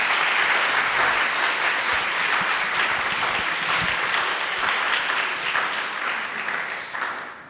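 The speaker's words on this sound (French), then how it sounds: "Je pense qu'on peut vous applaudir à nouveau" Audience applause at a post-screening debate in France, a dense, sustained round of clapping from a room full of people that holds steady and then begins to taper near the end.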